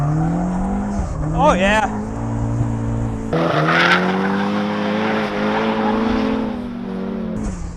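A Flyin Miata Turbo slides around on track, its engine droning steadily with rising pitch while tires squeal briefly, then a harder, louder push with broadband tire scrub; a man exclaims excitedly over the car noise.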